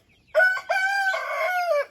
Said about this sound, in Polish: mój kogut